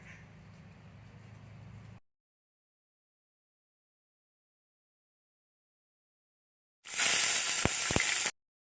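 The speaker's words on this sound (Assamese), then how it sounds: "কেৰাহীখনত মিঠাতেল গৰম হোৱাৰ পিছত এটা পিঁয়াজ কাটি ৰাখিছিলোঁ সেয়া দি দিছোঁ" Chopped onion hits hot mustard oil in a kadai with a sudden loud, crackling sizzle lasting about a second and a half. Before it come a quiet hum and several seconds of silence.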